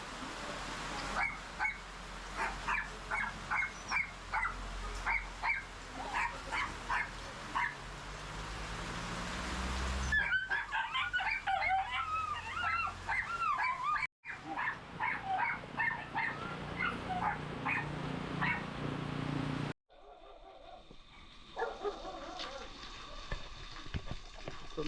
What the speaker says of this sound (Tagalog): Kawawa naman sa mga aso.